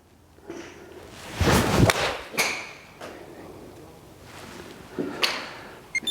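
A golf club swings down into a golf ball and strikes it with one sharp, close whooshing hit, followed by a few softer knocks and rustles from the surroundings.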